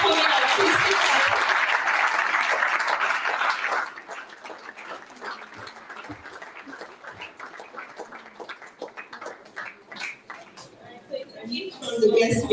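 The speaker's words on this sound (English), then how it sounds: "Please keep clapping, they are coming up." An audience applauding at a motivational talk, with loud dense clapping at first that thins to scattered claps. A voice speaks over the clapping throughout.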